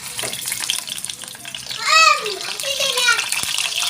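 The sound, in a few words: duck frying in hot oil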